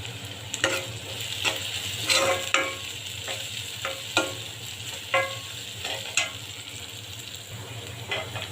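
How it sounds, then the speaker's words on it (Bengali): Dried red chillies frying in oil, a gentle steady sizzle close by with evenly spaced scrapes and taps of a stirring spoon over a low background hum. "এখানে কয়েকটা শুকনো লঙ্কা রাখছি ভাজি করে"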